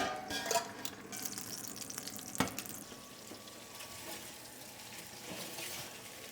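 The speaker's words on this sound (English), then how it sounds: "I'm gonna take all that leftover beef tallow and pour in here so we can start searing off that chuck roast." Beef chuck roast sears in hot beef tallow with a soft, continuous sizzle and crackle. A sharper pop or clatter breaks through once midway, then the quiet frying carries on alone.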